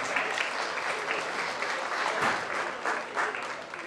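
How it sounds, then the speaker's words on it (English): An audience at a county fair 4-H goat show claps steadily for several seconds, a dense, even wash of applause at moderate distance with no voices standing out. "Let's give all these young ladies a round of applause."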